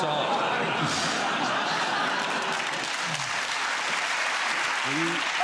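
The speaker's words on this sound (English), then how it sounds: "you were very quick to give yourselves a round of applause" A crowd claps steadily in sustained applause, dense and even, with a few scattered chuckles and voices mixed in.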